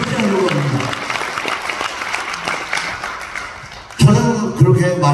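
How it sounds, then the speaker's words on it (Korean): Audience applause at a patriotic lecture in Korea given by a former vice minister of defense, a broad steady clapping wash that continues for several seconds, then grows louder and denser near the end. "그래서 여기 아직도 이번에 있는 이분들에게 큰 박수 한번 해주시기 바랍니다."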